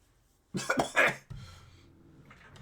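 A single close cough made of a few harsh bursts, followed by a low trailing rasp and quiet.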